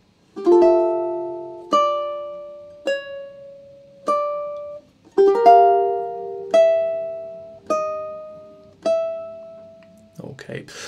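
Ukulele plucking a slow phrase of a theme from The Legend of Zelda, about eight clear, ringing notes in two groups with a short pause between, close and solo, ending with a brief scrape.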